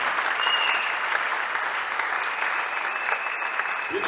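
A church congregation applauds together at a Sunday service, a dense, sustained wash of clapping that holds steady from start to finish.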